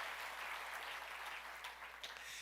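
Church congregation applauding during a sermon, steady dense clapping spread across the room, fairly faint and heard without talk.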